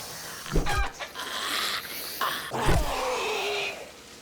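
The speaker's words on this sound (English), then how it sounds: "I did see a chicken." A chicken in 7 Days to Die clucks in a few short bursts, close and clear over a quiet background.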